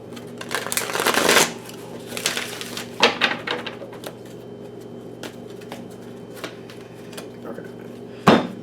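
A thick, bulky deck of reading cards being shuffled by hand, with bursts of riffling and sliding card noise in uneven clusters near the start, middle and end, close and moderately loud.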